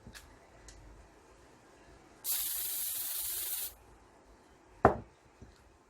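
A can of aerosol varnish sprays onto a glass jar in one clean hiss of about a second and a half against a quiet room, with a sharp knock shortly after.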